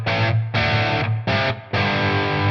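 Electric guitar played through the crunch channel of a ToneX amp-modeling pedal gives four sustained, gritty, overdriven chord bursts with brief gaps between them, loud and upfront with no talk.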